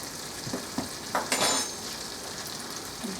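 Flour is stirred into picadillo frying in a pan: a quiet, constant sizzle with a few soft scrapes and clinks of the spoon against the pan.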